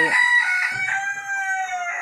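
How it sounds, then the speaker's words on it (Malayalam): A native country rooster on a backyard poultry farm lets out a long, loud crow nearby, the drawn-out call sustained steadily for about two seconds. "രണ്ട് വയസ്സ് കഴിഞ്ഞ കോഴിയാണ്"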